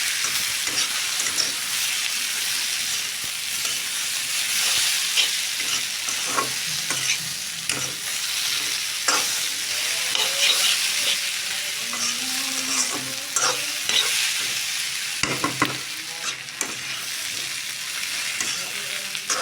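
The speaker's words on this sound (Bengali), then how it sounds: "অনেকটা ভাজা ভাজা হয়ে যাচ্ছে" Continuous loud sizzling of potatoes frying with large prawns in a pan, with repeated scraping and clatter as they are stirred throughout.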